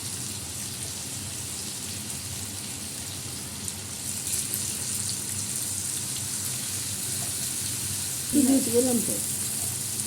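Potatoes fry in a pan with tomato, ginger paste, salt, turmeric, bay leaf and chilli, a steady soft sizzle throughout, with a short spoken phrase near the end.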